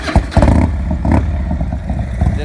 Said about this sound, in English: This has the upgraded 113 cubic inch Screaming Eagles engine